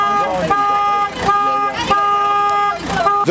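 Repeated car horns honk in long sustained blasts at a roadside protest in Cigacice, Poland, against changes to the Constitutional Tribunal, with brief gaps between toots and voices and traffic noise around them.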